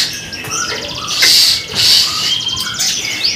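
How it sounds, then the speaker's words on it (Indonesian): A caged European starling at a bird market sings nearby, a loud run of bright chirps, whistles and rattling trills in short bursts. "Jalak Eropa bos."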